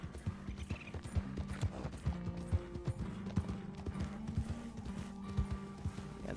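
Horse hooves clip-clop steadily in a role-playing video game, brisk rhythmic hoof strikes at moderate volume over a faint background.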